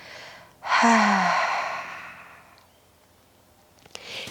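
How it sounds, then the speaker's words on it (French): A long, audible exhale through the open mouth during a prenatal yoga breathing exercise, a breathy rush that starts sharply and fades slowly over a couple of seconds, followed by a quiet pause. "Ouvre la bouche et expire"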